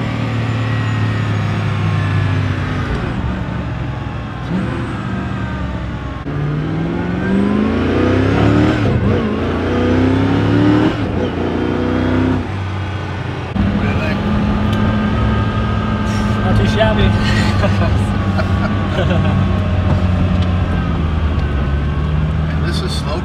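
A rare Koenigsegg supercar's engine heard from inside while riding, droning and revving through rising and falling gear pulls, loud and continuous, with people talking over it.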